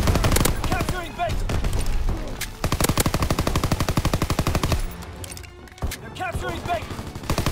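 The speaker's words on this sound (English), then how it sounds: "strafing run inbound." Rapid machine-gun fire from an aircraft strafing run in a video game, long dense bursts of rattling shots, loud and close, with voices talking over parts of it.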